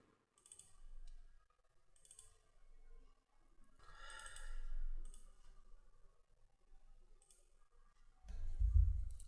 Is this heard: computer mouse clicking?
yes